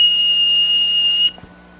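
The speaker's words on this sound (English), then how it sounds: "These are little whistles, little flutes, made from turkey femurs. And they're 800 years old," An 800-year-old flute made from a turkey femur bone sounds a shrill, steady whistle tone, held for over a second before cutting off abruptly, with no talking.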